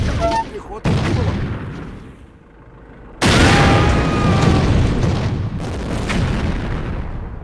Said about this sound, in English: Oh, yes, the regimental guns.